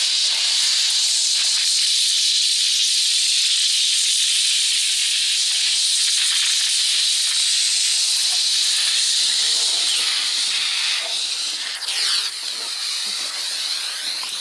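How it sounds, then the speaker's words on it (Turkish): A Fakir steam mop cleaner hisses with a steady, loud, continuous jet of steam, unbroken for the whole span, aimed at cleaning an outdoor table. "Buhar kirleri çok rahat bir şekilde yumuşatıp"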